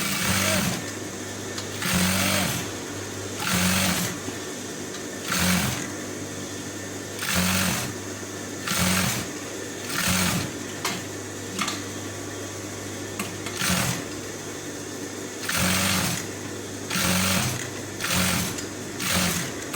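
A sewing machine stitching a V-neck collar runs in repeated short bursts, roughly a dozen rhythmic whirring runs separated by brief pauses, close and fairly loud with a steady hum underneath.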